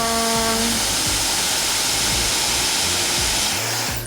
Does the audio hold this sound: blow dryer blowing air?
yes